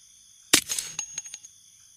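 A sharp gunshot in the video game Unturned, a single loud crack followed by a few quick fading echoes and clatters, then silence.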